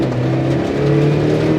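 Suzuki X-90 accelerating hard in first gear, a steady loud engine drone with the pitch rising as revs climb, continuous and close with no talking.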